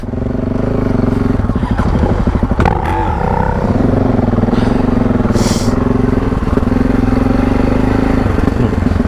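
Adventure motorcycle, a Yamaha Ténéré or KTM 790, riding off-road on a trail, with a loud steady engine drone, brief clattering bumps and a rider's voice at moments.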